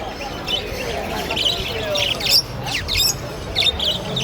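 A crowd of caged birds at a village bird market, with squawks and chirps rising in bursts over a steady busy hum, voices faintly mixed in.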